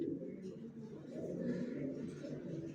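Young racer pigeons kept for sale give a low, continuous throaty cooing that swells slightly in the middle, close by and steady, with a faint murmur of background noise.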